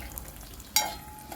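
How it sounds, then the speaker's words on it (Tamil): Cashews frying in a pan, giving a steady close sizzle with a brief sharper crackle as they hit the hot oil. "ஸோ இப்போ வந்து கொஞ்சம் கேஷ்யூஸ் போட்டுக்கலாம்."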